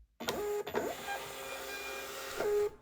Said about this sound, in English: plugged my end into the label printer